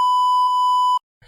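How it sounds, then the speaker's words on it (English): A loud, steady censor beep at a single pure pitch bleeps out a word in a podcast, lasting about a second before cutting off abruptly, followed by brief quiet and a faint rustle. "In solidarity, Tony will beep that word out"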